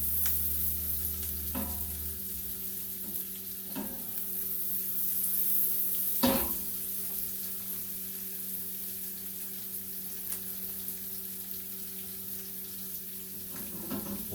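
Omelet ingredients fry in a pan, a quiet steady sizzle with a few soft clinks and stirring knocks, with a brief low hum at the start.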